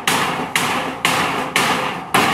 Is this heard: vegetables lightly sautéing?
no